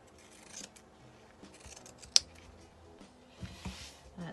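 Quiet snips of scissors cutting denim fabric scraps while trimming a stuffed bunny shape, a few soft cuts with one sharper click in the middle, close and alone.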